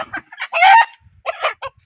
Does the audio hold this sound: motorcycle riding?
no